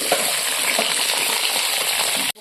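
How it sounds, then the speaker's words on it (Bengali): Potatoes frying in hot mustard oil for a goat mutton curry, a steady loud sizzle with faint crackles throughout, close up and alone, cutting off abruptly at the end. "আমার এদিকে তেলও গরম হয়েছে, আর আমি আলুগুলো দিয়ে দেবো"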